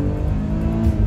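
A BMW 333i or 325iS engine revs hard up toward 6500 rpm, a loud, close, sustained mechanical roar with strong harmonic whine and no speech.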